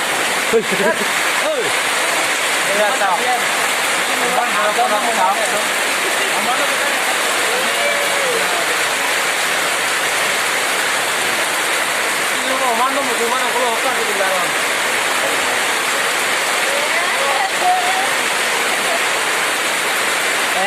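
Heavy rain pours during a storm as a dense, steady roar that holds at one loud level throughout, with faint voices now and then underneath.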